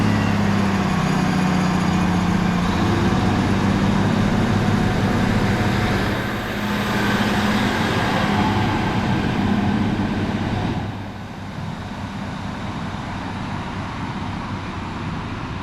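Class 153 diesel train pulling out of Pontarddulais station on the Heart of Wales Line, its engine rumbling loud and steady nearby before fading somewhat toward the end.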